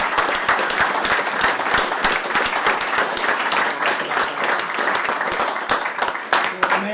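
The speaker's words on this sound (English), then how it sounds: "I would like all of us to just give a round of applause to someone who we're recognizing." A meeting audience applauds steadily and densely for the full stretch, many hands clapping at once at close range, with no voices breaking through.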